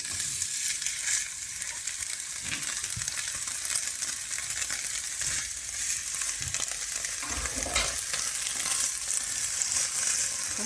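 Finely cut burdock stems fry with onion in a pan, giving a soft, constant crackling sizzle with an occasional faint stir, steady and fairly quiet throughout.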